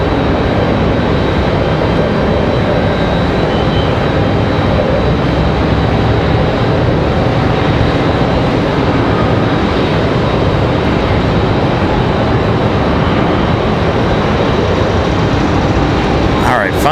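A Delta Airlines A321 at Raleigh Durham airport gives a loud, steady, broadband engine roar that stays constant throughout, heard close with no clear talk.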